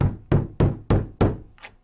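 Ends of vinyl planks (Euro Vyluxe flooring) knocked together, giving five sharp, close wooden-sounding thunks at an even rhythm, then a fainter sixth tap.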